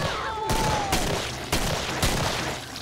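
Rapid bursts of gunfire in the shooter game Killing Floor, four or five sharp heavy shots spaced about half a second apart, loud and close over a continuous game backdrop.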